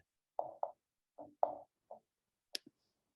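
About six separate soft taps on a laptop's floating on-screen keyboard, spaced irregularly over a few seconds in a quiet room, ending with a sharper click.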